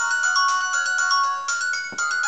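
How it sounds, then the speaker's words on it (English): A phone ringtone plays a bright electronic melody of repeated tones, loud and close, with no talking over it. "What about that ringtone?"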